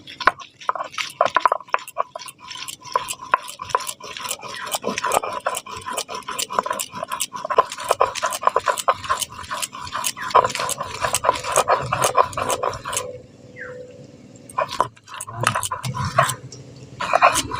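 Garlic, green chilli and whole cumin ground into a paste by hand, a rapid run of close, wet, squishing knocks that continues steadily and pauses briefly near the end.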